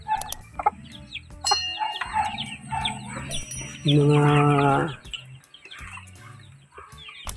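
Chickens cluck and chirp close by, with one loud drawn-out call midway and a few brief spoken words.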